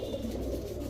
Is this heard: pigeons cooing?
yes